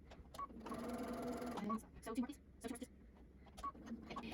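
A domestic sewing machine stitches a fabric face mask in short bursts, with a longer run near the start, while a voice talks over and between the stitching.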